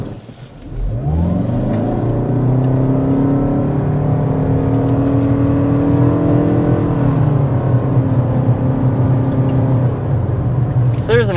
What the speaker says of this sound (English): So there's an acceleration from a stop, and it certainly gets off the line nicely with that instantaneous electric torque from the hybrid system.